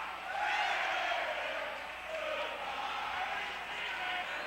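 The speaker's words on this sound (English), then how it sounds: "you'll hear the crowd giving Pennsbury a send-off" A basketball crowd in a school gym at a 1999 boys' game cheers as a team is sent off, a broad, steady roar of voices heard somewhat distant and moderately quiet.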